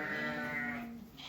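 Sheep and lambs on a farm on a foot-bathing and vaccination day bleat in a long, drawn-out call, heard fairly faint against a steady background.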